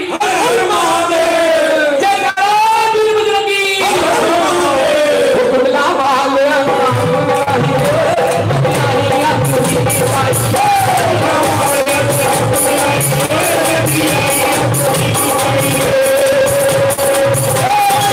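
Crowd at an annual religious bhandara gathering shouting a jaikara cheer, loud massed voices rising in waves of chanting and bellowed calls over roughly eighteen seconds, with a leading voice calling out over the crowd.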